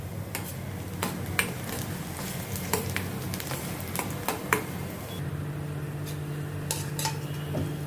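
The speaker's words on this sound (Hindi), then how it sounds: "इनको भी अभी मैं प्याज के साथ सौते करती हूँ अच्छी तरह से" Garlic, ginger and onion sauté in a pan under a soft, steady sizzle, with sharp metallic clinks and taps of a utensil against the pan at irregular intervals.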